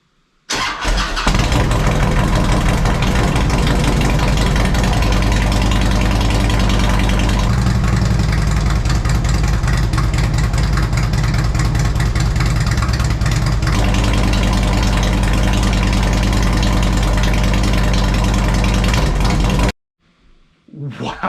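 A Harley-Davidson Road King with 36-inch straight-pipe fishtail exhausts cranks over and settles into a loud, close, lumpy idle that rumbles steadily for about twenty seconds before cutting off abruptly.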